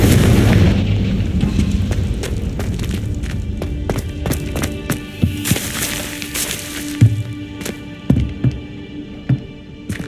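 A Confringo fire spell explodes in the Hogwarts Legacy video game, producing a string of deep booms and thuds over a low hum. The blasts sound loud and close at first, then sharper separate impacts follow.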